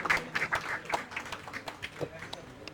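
An audience applauds at a press launch for an upcoming YouTube show, with a burst of scattered hand clapping mixed with voices over a few seconds.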